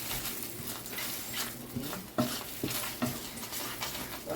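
Scrambled eggs, hotel style, tossed and stirred in a pan with a utensil, giving scraping clicks and light taps over a soft background sizzle, close and moderately quiet, no voices.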